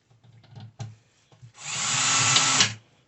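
Power drill driving screws into flat-pack Walmart furniture: a few soft clicks and handling knocks, then one steady whirring burst about a second long, close by.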